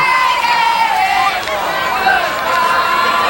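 A crowd at a 1997 high school football game between Haddon Heights and Paulsboro, heard as a dense, continuous babble of many voices and rising cheers at a steady, fairly loud level.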